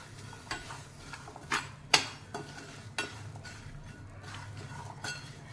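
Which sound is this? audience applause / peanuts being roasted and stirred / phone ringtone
peanuts being roasted and stirred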